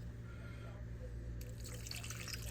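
Cold water runs steadily from a tap, brightening into a splashier pour partway through, over a constant low hum.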